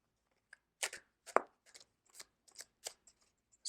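Tarot cards are shuffled by hand close up, giving a quiet run of short, irregular riffling snaps and soft flicks separated by brief pauses.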